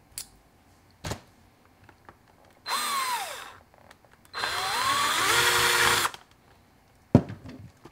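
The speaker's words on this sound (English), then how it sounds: "Now we're going to switch to the bigger drill bit and make these holes the size they need to be." A power drill whines through two bursts of drilling with a 1/4 bit into a Casio SK1 toy synth, the motor pitch sliding as the bit bites, separated by short pauses and a few clunks.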